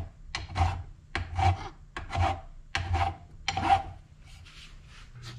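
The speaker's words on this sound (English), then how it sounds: "A little cleaning up with the file and some sandpaper will be good." A hand file and sandpaper rasping across a wooden drill press fence hold-down, six close, rhythmic strokes of steady scraping, then a lighter, fainter rub trailing off at the end.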